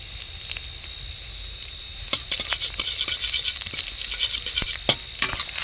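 Panch phoron and whole cumin dropped into hot oil with onions already fried for Bengali masoor dal, giving a steady patter of spitting and crackling that grows busier after the first couple of seconds, close and fairly loud, with no talk.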